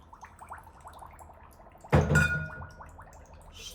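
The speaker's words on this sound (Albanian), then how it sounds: "Shtojna dhe 3 lugë gjelle me ujë" Water poured from a container into sugar syrup in a cooking pot for baklava, a sudden splashing pour at mid-clip that trails off, with faint kitchen clatter before and after.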